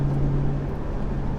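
Interior drone of an LS3-swapped wagon cruising with its Magnaflow xMod exhaust fully open in the louder mode, a steady low rumble mixed with wind and road noise, windows up.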